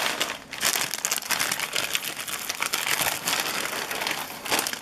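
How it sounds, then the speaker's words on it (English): Paper towel crinkling and rustling close to the microphone, continuous and fairly loud, with no speech. "Paper towel."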